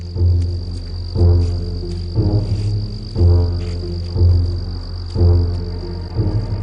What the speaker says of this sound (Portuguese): Por vastas áreas do estado de Ohio, 10 bilhões de cigarras unem-se para uma invasão descomunal.